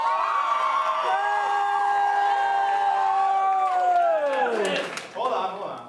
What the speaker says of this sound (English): One's booing.